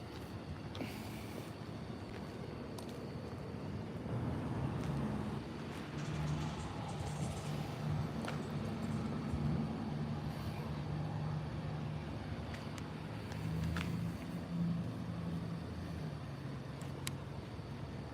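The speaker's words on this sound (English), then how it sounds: "the damn police car engines is just making it to where we can't hear" Police car engines idle nearby at night as a faint, steady low rumble, with scattered clicks and knocks layered over the hum.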